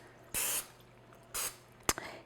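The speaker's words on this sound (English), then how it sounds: "I'm just going to spray it with one of these non-stick sprays" Two short hissing bursts of non-stick cooking spray into a cake pan, followed by a couple of light clicks or taps nearby.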